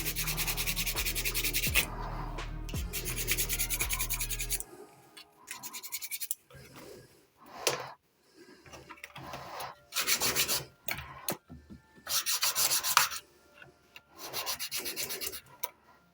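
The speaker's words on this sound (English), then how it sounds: "Sand it down a little bit where we have the laser cut." Sandpaper rubs over laser-cut wooden frames and keel parts of a model ship, the USS Providence, in repeated close strokes. Long steady passes come first, then shorter scratchy bursts separated by brief pauses.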